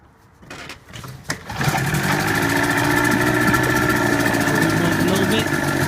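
Johnson 25hp outboard motor on a jon boat: a few pulls and sputters, then it catches and settles into a loud, steady idle, with a voice briefly under the start.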